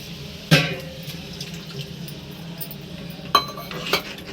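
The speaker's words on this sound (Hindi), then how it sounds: "थोड़ा सा इसमें हम पानी डाल देंगे, बहुत ही चटनी गाढ़ी है तो थोड़ा सा डालेंगे पानी।" A little water is added to thick peanut chutney, with a sharp clink of a utensil on a bowl, soft trickling, and two more clinks near the end, all close and quiet.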